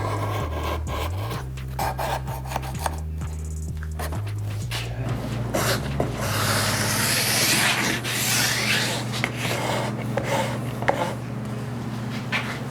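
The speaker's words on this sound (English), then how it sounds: "any machine mill file will work for this" A machine mill file scrapes along the edge of a steel putty knife to take off a burr, making a series of close, gritty rasping strokes with soft handling noises between them.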